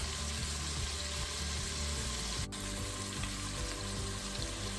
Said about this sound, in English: let them cook on this side and let them brown up a little bit more